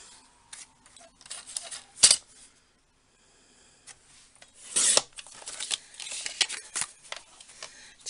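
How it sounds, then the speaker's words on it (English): A paper trimmer cuts paper up close in short slicing swipes and rasping scrapes, two sharper cuts standing out among scattered light handling noises, with no talking. "I'm just going to get my paper trimmer back in. And I'm just going to trim this"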